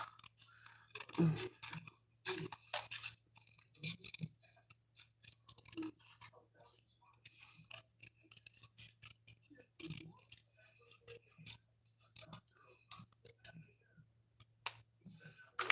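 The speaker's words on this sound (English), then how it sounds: "I'm going to cut this so I can get it in my hand." Scissors snip around the edge of a paper piece for a handmade corner fold card, giving a string of short, close, irregular clicks and crisp cuts with small pauses between them and no talk.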